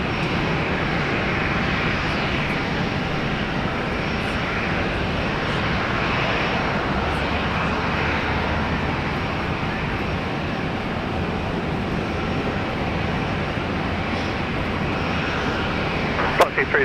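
An airliner takes off from runway 19 left at Brisbane International Airport, its engines giving a steady, continuous roar that holds at a fairly even loudness throughout.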